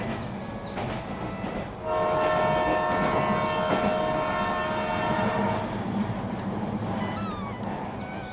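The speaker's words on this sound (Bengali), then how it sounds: "ট্রেনের হুইসেল শোনা যাচ্ছে দূর থেকে।" A train horn sounds in the distance, a sustained tonal whistle rising over a steady rumbling background for several seconds before fading, with a brief higher cry near the end.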